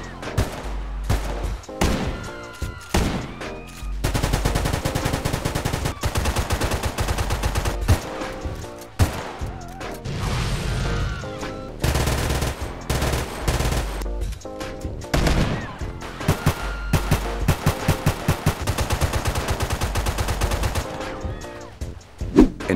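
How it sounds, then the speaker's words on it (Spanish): Modded weapon sounds in the PC game GTA San Andreas: loud, dense bursts of automatic gunfire and single heavy shots firing almost continuously for over twenty seconds, with brief pauses between volleys and no talking. "también incluye sonidos de arma, los dejo un momento para que los escuchen"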